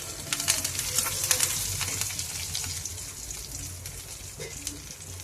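Dried prawns and curry leaves fry in a pan for a curry, a soft, close sizzle crackling throughout with scraping stir strokes and small pops, and no talking.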